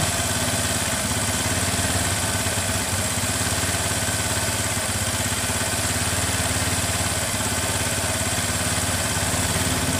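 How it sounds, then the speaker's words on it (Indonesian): A carbureted Honda Vario scooter engine, hot-wired to run without its key, idles close by with a steady, buzzy putter and constant vibration for the whole stretch, no talking over it. "ini motor sudah hidup lagi"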